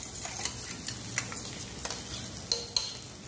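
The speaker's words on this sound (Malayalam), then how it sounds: "ഇനി ക്യാപ്സിക്കം നമ്മളിട്ട് ഇന്ന് ഇളക്കി കൊടുക്കുക" Capsicum being stirred in a frying pan for gobi manchurian, a spoon scraping and clinking against the metal in irregular strokes over a faint, steady sizzle, with no talking.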